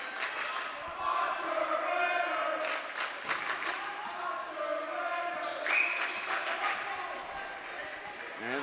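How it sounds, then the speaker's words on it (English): A student cheering section at a Section V boys high school basketball game between Livonia and Dansville chants in rhythm, loud and crowd-wide, over bouncing balls and sneaker squeaks in a gym, with an announcer talking. "the cheering section with the Oscar winner chant"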